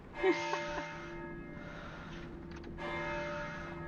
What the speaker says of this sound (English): The bells work underwater?